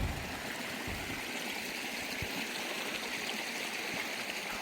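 Creek water runs steadily across a hiking trail in a continuous close rushing babble, loud and even throughout with no talking.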